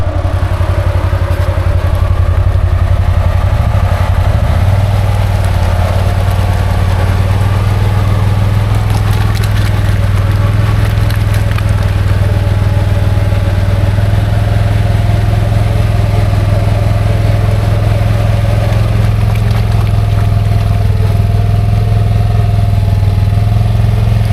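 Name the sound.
Can-Am Outlander XMR 850 G3 ATV engine riding on Aztex tires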